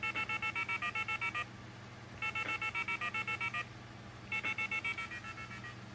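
Redial tones from an AT&T 210 telephone, rapid evenly spaced DTMF beeps sent in three quick bursts with short gaps between them, a faint steady hum underneath and no talking.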